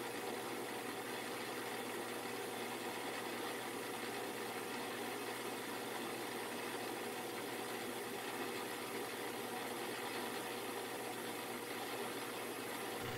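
A metal lathe makes a finishing pass at high spindle speed with a slow feed, a steady, even machine drone with a faint cutting hiss that holds unchanged throughout, fairly quiet and with no voices.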